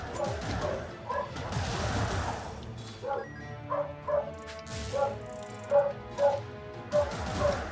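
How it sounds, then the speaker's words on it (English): Indoors, a very upset dog barks and yips in repeated sharp bursts, the later barks spaced about half a second apart and fairly close, over muffled background noise and clatter. "I hear a very upset dog, like, extraordinarily upset"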